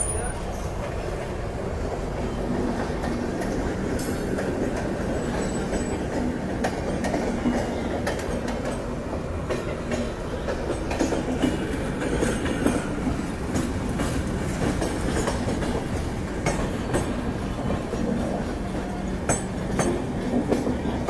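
An Indian Railways express train rolls at steady speed toward a rail-cum-road bridge, with a continuous rumble and clattering wheels heard from inside the carriage and faint voices underneath.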